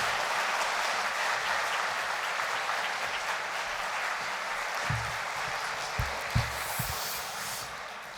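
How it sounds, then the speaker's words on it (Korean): Sustained applause from a church congregation at a spring revival meeting, a dense steady patter of clapping filling the hall, with a few louder individual claps near the end. "우리 박수로 한번 환영할까요?"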